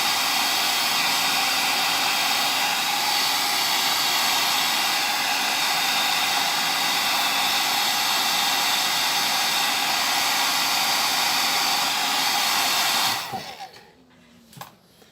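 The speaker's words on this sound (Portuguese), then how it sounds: "secador de cabelo mesmo" Hair dryer blowing steadily to dry water-based paint on a 3D-printed miniature battle tank, a loud, even, breathy roar that holds for about thirteen seconds before cutting off abruptly, leaving faint handling sounds.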